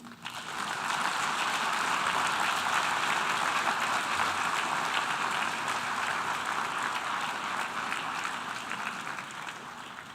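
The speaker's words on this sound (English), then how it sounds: "Let us give a great round of applause to my team at OPGA" Sustained applause from a large audience in the UN General Assembly hall at the closing session of the 76th UNGA, a steady dense wash of clapping that swells early and tapers slightly toward the end.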